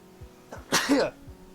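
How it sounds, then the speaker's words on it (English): A single sneeze from a person, short and close, with a sharp burst followed by a brief trailing exhale, against a quiet room. "I'm gonna sneeze."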